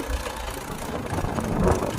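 A tractor fitted with a rotavator runs steadily in a field, its mid-range engine drone and churning blades forming a continuous rough rumble that swells slightly toward the end.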